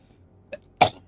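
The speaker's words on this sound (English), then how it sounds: "You heard me coughing, not panting." A single short cough, preceded by a faint small throat sound, with quiet background otherwise.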